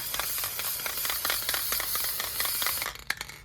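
A continuous, bright hiss of an aerosol can of final fixative spray runs for about three seconds, close and fairly loud, then cuts off sharply, leaving a brief rattle.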